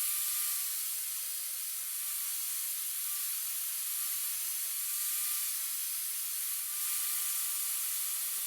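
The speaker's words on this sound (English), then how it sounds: "I'll carefully grind down most of the excess." An angle grinder works down excess metal on a Krag bayonet during restoration, giving a steady, bright, hissing whine that holds nearly constant throughout, close and alone.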